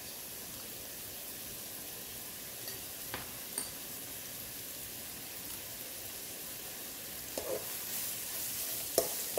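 Leeks and vegetables sweat with a bit of salt in a pan over high heat, giving a faint, even hiss throughout with a few light ticks and scrapes toward the end.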